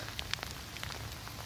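Rainwater from a Southern California roof pours through a hose onto the soil around young cherry trees, giving a close, irregular patter of splashing drops over a soft steady wash.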